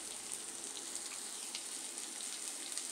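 Dried red chillies sizzling in hot oil in a frying pan for onion masala, a soft, even crackling hiss with faint pops, fairly quiet and steady throughout.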